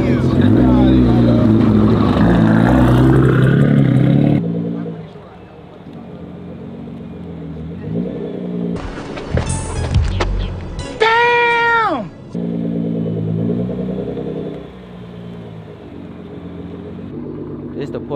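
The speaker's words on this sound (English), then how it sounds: "That's racing a soft top 911 Turbo S, man." A soft-top Porsche 911 Turbo S roars and rises in pitch while drag racing against a Nissan GT-R and a Tesla Plaid. A loud engine surge comes first, then sharp rising whines and quieter stretches of engine noise.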